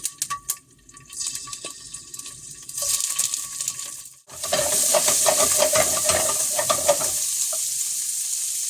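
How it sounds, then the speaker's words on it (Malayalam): Prawns drop into hot oil in a pan and fry with a loud, steady sizzle, after a few quieter clinks and stirring sounds at the start. "ചൂടായിണ്ടേ, നമുക്ക് ചെമ്മീൻ ഇട്ടെടുക്കാം."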